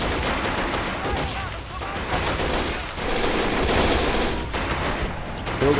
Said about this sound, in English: Buildings are being obliterated.